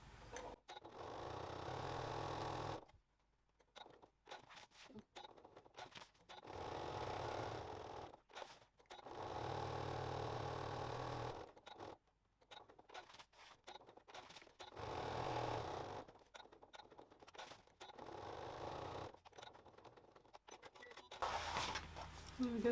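Sewing machine stitching a row about an inch in along a weekend bag, sounding in several steady bursts of a few seconds each, separated by pauses, close and moderately loud.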